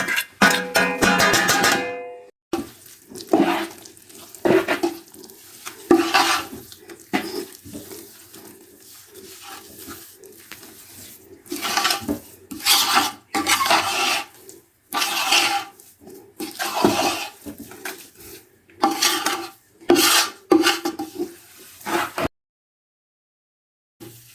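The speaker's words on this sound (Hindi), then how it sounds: "इसको ना फ्लेम से हटा के मिक्स करना पड़ता है।" A flaxseed pinni mixture with dry fruits is stirred in a pan off the flame, giving irregular close scraping and sticky squelching bursts separated by short pauses.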